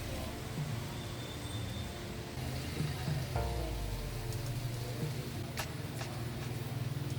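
Heavy rain falling on a street in Hue, Vietnam, where scooters wait: a steady, dense hiss of downpour fills the whole stretch, with a faint engine rumble from traffic underneath.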